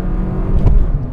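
Suzuki Swift Sport Hybrid 1.4 Boosterjet, a 2022 six-speed manual hatchback, accelerating hard with a loud, steady low engine drone from inside the car and a brief swell, no talk.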